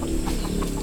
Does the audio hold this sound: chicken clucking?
yes